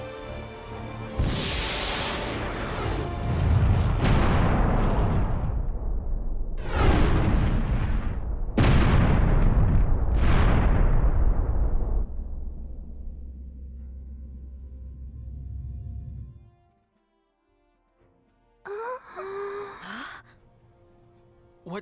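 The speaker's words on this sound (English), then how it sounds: "Incoming fire from the unknown vessel." Heavy explosions from incoming fire by an unknown ship in the Star Ocean: The Last Hope video game: several loud booming blasts in quick succession, each with a long decaying rumble, a sustained low drone, then a brief silence before a short burst of noise.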